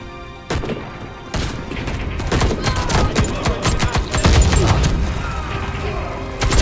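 Rapid bursts of gunfire crackle continuously with booms and mechanical clatter, loud and dense, like a frantic firefight in the shooter game Warface.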